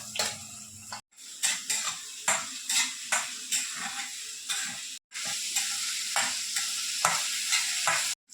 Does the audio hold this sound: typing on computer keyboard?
no